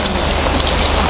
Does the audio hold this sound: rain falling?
yes